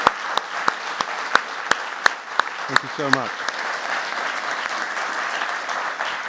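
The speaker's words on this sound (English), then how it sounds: "I'd like you to give this panel a big round of applause." Sparse, scattered clapping from a small audience at a lecture on a nature-based approach for Europe, with distinct individual claps at an uneven pace. A voice speaks over the tail end.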